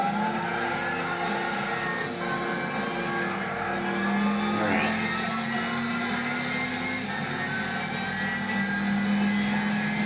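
A car accelerating in Gran Turismo 6 on a rainy track, a steady engine drone rising in pitch under constant background game noise, with no talking.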